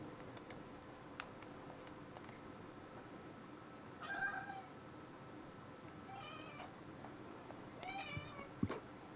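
A house cat meows a few times, faint-to-moderate and spaced apart, against a quiet room with light ticking and rustling. There is no speech.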